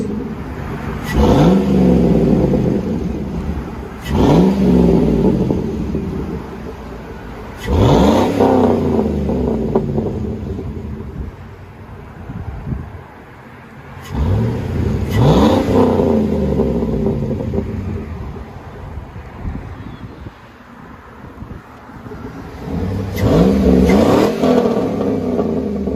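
A 2005 Chevy Silverado with a 5.3L V8 and straight-pipe exhaust revs repeatedly, each loud, raspy blip rising and falling back to a rumbling idle, about six bursts at a steady interval with no talking.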